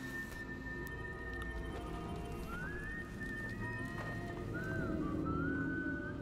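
Whistling in the video game Far Cry 5, several sliding tonal whistles rising and holding over a steady game soundscape with horse noises and ambient rumble.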